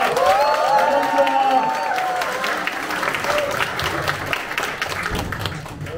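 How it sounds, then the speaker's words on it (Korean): Audience applause welcoming a candidate at a party gathering in Incheon, steady dense clapping mixed with crowd noise and a few cheers throughout, fairly loud and close, with an announcer's voice briefly over it. "다시 한번 이준석 후보를 열렬히 환영의 박수를 보내주시기 바랍니다."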